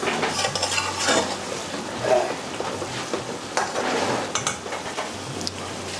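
Lamb pieces cooking on a railway tawa, with continuous sizzling and frying and repeated metal spatula scrapes and clinks against the pan, close and steady with no talk.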